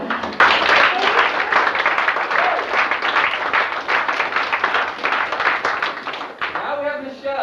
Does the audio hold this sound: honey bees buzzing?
no